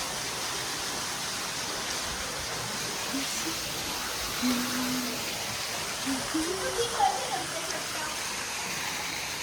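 Steady broadband rush of water flowing at a swimming pool, constant and fairly loud, with faint voices and brief high calls surfacing over it toward the end.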